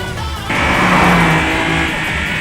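Race car engine revving hard while speeding downhill on a mountain pass, a loud sustained roar that jumps up in pitch after a moment and holds steady, close and alone with no talk.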